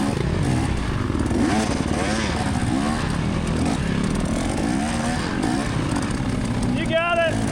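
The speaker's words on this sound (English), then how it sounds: "we're on our 100-hour two-stroke KTM and we're still chugging" A 100-hour KTM two-stroke dirt bike engine runs hard and continuously during a GNCC race at Talladega, with a dense buzzing roar and rising and falling revs, while people talk over it throughout.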